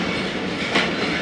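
A five-coach Safari passenger train with 3 AC coaches, a parlour car and a power car rolls along the rails, a steady loud rumble with faint clatter.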